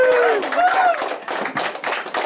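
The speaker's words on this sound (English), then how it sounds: "So first, a round of applause for the love of God." Wedding guests applauding during a Newfoundland screech-in: a burst of clapping that is dense at first and then thins into scattered claps, with voices talking over it.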